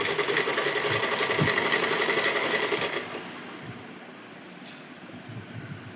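A sewing machine stitches steadily and loudly for about three seconds with a fast, even rhythm, then stops, leaving only faint room noise.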